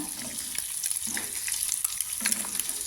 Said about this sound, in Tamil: இந்த மாதிரி நல்லா பொரிச்சு எடுத்துக்கொள்ளுங்க.